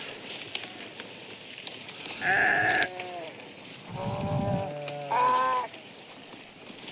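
Sheep and a ram feed on torn-off leaves, with three loud, wavering bleats close by, the last two coming in quick succession. Quieter rustling and munching fill the gaps between calls.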